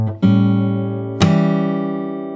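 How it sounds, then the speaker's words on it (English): A fingerstyle guitar chord from a jazz standard rings out, then a second chord is struck with a sharp percussive slap and left to sustain, close and loud, with no voices. "you have to ring the chord with a slap"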